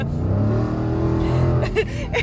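A car's engine revs hard while driving fast, close and loud, with a rising engine note throughout and a short burst of changing pitch near the end, as the car breaks traction and slides sideways.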